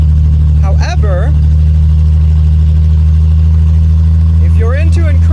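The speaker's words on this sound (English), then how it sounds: "if you're into incredibly loud exhaust systems, you literally cannot get better than this" A loud, steady 1970 Mercedes-Benz 250 engine idles with a deep, raw open-header exhaust rumble, while someone talks briefly at the start and again near the end.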